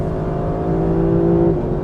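The engine of a 2023 Lexus LC500 sports car revs up with a steady, rising drone, holding loud and close before easing off near the end.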